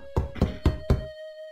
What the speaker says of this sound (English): You knock on the door.